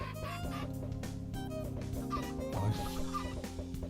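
Chickens cluck in the MyCraft video game, put into a lava-and-dispenser build, heard under steady background game music with no talk.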